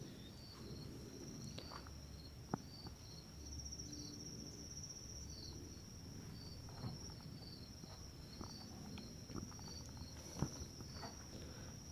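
Crickets at a cricket farm keep up a faint steady high-pitched trill, with soft footsteps and light handling clicks scattered underneath, no voices.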